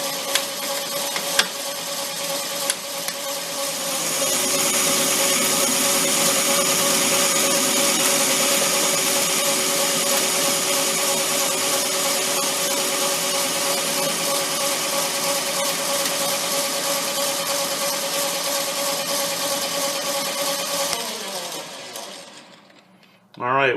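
A lathe cuts steel lubricated with sulfur cutting oil at a faster feed rate, giving a steady, fairly loud mechanical whine with tonal hum. It holds for nearly twenty seconds, then winds down and stops.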